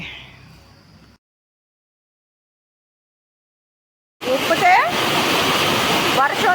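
Rainwater rushes and flows in a dense, steady outdoor wash that bursts in after a silent gap, close and loud, with a person speaking over it.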